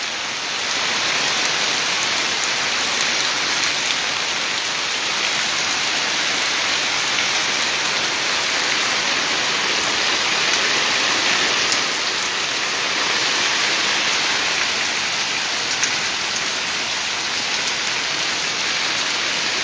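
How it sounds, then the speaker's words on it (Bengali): Heavy rain mixed with hail pours down steadily, a dense, loud, unbroken hiss of drops drumming on surfaces with no voices. "অনেক বৃষ্টি হইতে আছে।"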